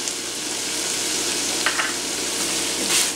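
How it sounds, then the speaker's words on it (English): Cranberries, wild rice and chestnuts sizzle steadily in a hot pan as they are stirred, a continuous close frying hiss with a few brief scraping accents and no talking. "And then we're going to stir this around and cook for an additional 2 minutes."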